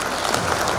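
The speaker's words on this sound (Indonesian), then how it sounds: "tepuk tangan dulu BPSDM" Dense, steady applause from a seminar audience at a public speaking training session fills the short moment, close and even with no pauses.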